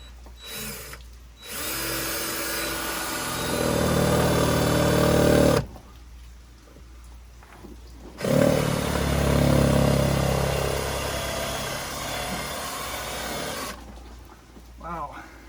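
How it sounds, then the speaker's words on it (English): A power drill bores a hole at a tight angle near a drained hose bib, running in several bursts of whining, grinding effort separated by short pauses, close and fairly loud. "let me get the hole drilled here"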